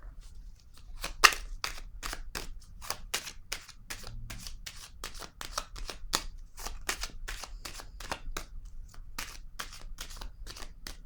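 Tarot cards are shuffled, flicked and laid down in quick, crisp, papery snaps that repeat steadily, close by, with no speech over them.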